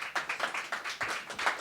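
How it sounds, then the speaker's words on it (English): An audience claps at a campus speaking event, a short quick burst of hand claps, fairly close and with no talking over it. "Clap for you twice."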